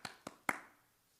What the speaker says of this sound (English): clapping for those who are falling asleep